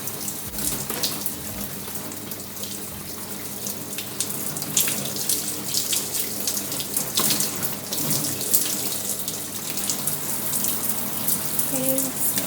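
Water runs steadily from a tap as oil is rinsed out of hair with shampoo during a wash day, a continuous splashing flow with no talk over it.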